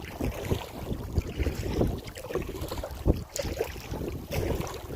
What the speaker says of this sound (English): Getting a strong south wind today.